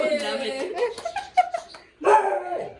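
A dog close by gives short whimpering yelps and whines in quick bursts, pausing briefly before one last drawn-out whine.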